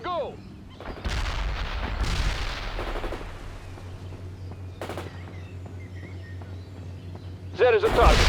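Gunfire and rocket launchers boom through a World in Conflict battle. Repeated bursts and blasts come over a low rumbling background, with radio-style voices talking in between.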